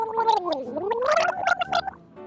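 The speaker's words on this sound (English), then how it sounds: "Olive took a big sip of the mouthwash and gargled loudly." Loud, close gargling of mouthwash, a bubbling, wobbling throat sound lasting about two seconds with no speech over it.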